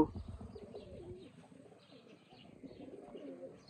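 Golden Sherazi pigeons coo softly and repeatedly nearby, low rolling calls with a few faint chirps in the background.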